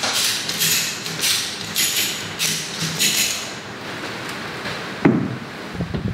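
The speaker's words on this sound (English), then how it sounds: "I'm just going to use a ratchet strap to do that" A ratchet strap is tightened to pull a tow bar forward, giving a series of regular, close ratcheting clicks about every half second, then a pause and a single sharper knock near the end.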